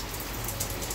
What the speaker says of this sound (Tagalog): bumabagsak yung ulan.